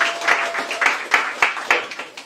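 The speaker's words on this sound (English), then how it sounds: "Give them a round of applause" Audience applause at a community meeting in the Motor City Job House building, a burst of many hands clapping in a dense, even patter, close and fairly loud, with no speech over it.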